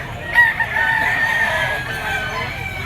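A Gilmore dark-legged stag rooster crows once, close and clear, in one sustained call lasting more than a second over faint background noise.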